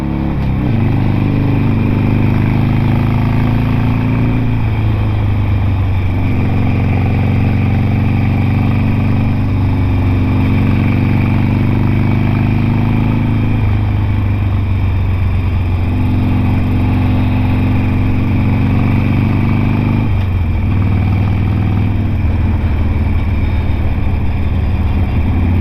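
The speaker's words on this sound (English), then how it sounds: "Oh, this bike sounds so good!" A Harley-Davidson Sportster 883 motorcycle engine runs steadily while riding along a narrow country road, a loud continuous low rumble with rising and falling throttle swells every few seconds, no talking heard.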